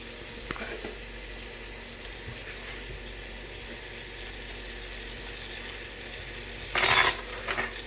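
Bacon and jalapenos fry in a pan with a constant soft sizzle, with occasional utensil clinks and a louder burst of scraping and stirring near the end, close by and without speech.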